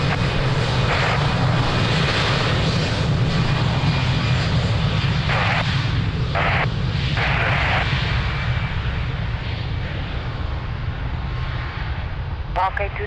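Aircraft engines roar steadily at Lisbon Airport, a loud continuous drone that holds throughout, with radio chatter and talk heard over it.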